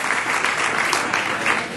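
Audience applause for award finalists at a national marketing awards ceremony, a steady dense clapping that fills the room evenly throughout.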